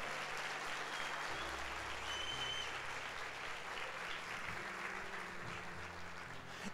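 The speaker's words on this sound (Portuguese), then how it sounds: "Pode aplaudir para o Senhor." Church congregation at a Sunday worship service applauding for the Lord, a soft, steady patter of many hands heard from a distance, with a low sustained organ or keyboard tone underneath.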